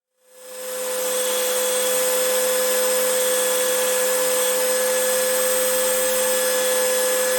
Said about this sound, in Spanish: lo lijaré con la parte redonda de la misma lijadora de banda